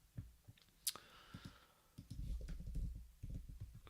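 Sparse computer mouse clicks come at irregular intervals, close and fairly quiet, with soft low background noise and no speech.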